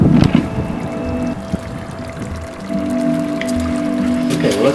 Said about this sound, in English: that's bubbling away pretty nice.